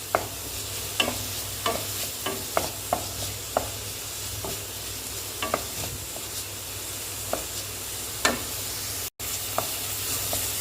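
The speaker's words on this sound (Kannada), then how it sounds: "ಇದು ಫ್ರೈ ಆಗಲಿ ಚೆನ್ನಾಗಿ" Onions and methi frying in a pan for Andhra methi pappu, with a soft steady sizzle under repeated sharp scrapes and taps of a spoon stirring at an irregular rhythm, fairly quiet and close, with no talking.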